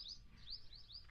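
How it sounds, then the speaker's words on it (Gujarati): Faint sparrow chirping in the distance, a few short rising tweets in quick succession over quiet background noise. "એવો ચકલાનો અવાજ સંભળાય છે તમને"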